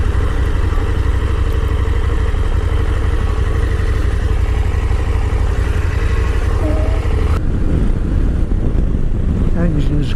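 A 2022 KTM 890 Adventure's engine drones loud and steady while riding down country lanes, mixed with heavy wind buffeting, with a short shift in tone near the end.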